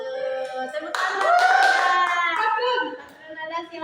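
Students clap in a classroom during a poetry lesson, a short burst of hand claps mixed with overlapping voices and chatter, rising and then fading.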